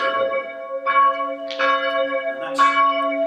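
Church bells at St Thomas of Canterbury Church in East Clandon, Surrey ring out in a steady sequence of about four loud, resonant strikes, each tone lingering and overlapping the next.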